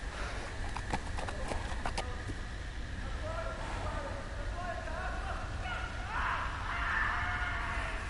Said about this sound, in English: Okay, there goes my horse.